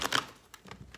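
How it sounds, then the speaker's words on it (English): Tarot cards riffled and shuffled by hand: a dense papery flutter at the start, then scattered softer card taps and slides, close and fairly quiet, with no voices. "I wanted to shuffle while I was talking to you"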